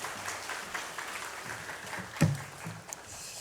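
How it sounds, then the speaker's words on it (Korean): A church congregation applauds with faint, steady, distant clapping, giving a soft patter throughout with one slightly louder moment. "설교를 아직 시작도 안 했는데 벌써 박수까지 쳐주시고 고맙습니다"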